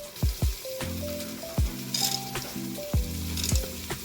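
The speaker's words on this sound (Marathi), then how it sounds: "याला 4-5 मिनिट मस्त गुलाबी कलर येईपर्यंत आपण तळायचं" Tomatoes and chickpeas fry in a pan for khichdi, a continuous sizzle with several sharp scraping stirs and a faint tonal hum behind.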